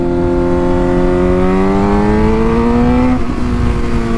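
A Suzuki GSX-R 600 sport motorcycle accelerating, its engine note climbing steadily in pitch as the revs rise, loud and close, then dropping abruptly near the end as it shifts gear.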